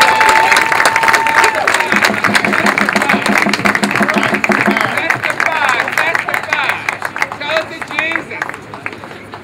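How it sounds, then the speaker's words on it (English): Crowd applause and cheering at a rally to save Black Studies at Temple University, dense continuous clapping with a brief whistle at the start, loud and sustained, thinning toward the end. "Let's give a big round of applause."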